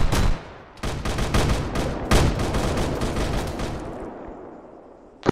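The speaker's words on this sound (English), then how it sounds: "They're shooting you from the opposite wall, it's higher up" Gunfire rattles through a video game firefight as rapid automatic bursts and heavy shots overlap. The barrage is loud and close, pauses briefly, then rolls on before fading out with a final sharp crack.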